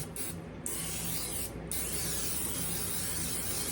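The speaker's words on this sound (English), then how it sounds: "I'm going to use the buttery oil and spray my pan with that" Buttery cooking oil sprayed from a can onto a pan gives a close, steady aerosol hiss, broken by two brief pauses early on, then a continuous spray to the end, with no talking.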